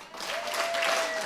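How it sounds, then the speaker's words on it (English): Conference audience clapping together in a hall, a short, dense burst of applause that stays steady throughout, with no voices over it. "clap 3 times if you're excited to be here"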